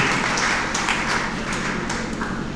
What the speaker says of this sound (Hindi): एक बार तालियां बजा दीजिए उनके लिए